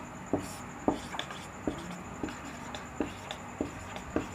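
A teacher writes on the classroom board during a science lesson, short taps and scratchy strokes repeating every half second or so, fairly faint, with no talking.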